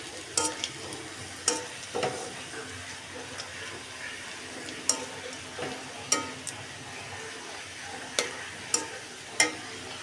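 Onions with bay leaf, garam masala and whole cumin frying in oil in a wok make a steady, soft sizzle, broken by sharp, irregular clicks of a utensil stirring against the pan. No one talks.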